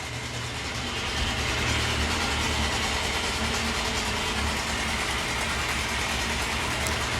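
A 1998 Yamaha YZF600R Thundercat 600cc sportbike engine idles with a steady, fairly quiet low rumble, continuous and even throughout with no talking.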